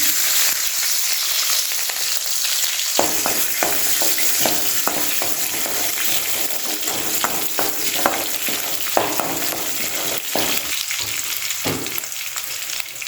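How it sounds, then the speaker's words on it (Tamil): Mustard seeds, fenugreek and shallots fry in hot oil used for sautéing turkey berries, a steady loud sizzle running throughout with scattered sharp pops and crackles, no voices. "இப்போ சுண்டாக்காய் வதக்கின எண்ணெயில் இப்போ நான் கடுகு போட்டுக்கிறேன் கொஞ்சமாக வெந்தயம் இப்போ கடுகு பொரியட்டும்"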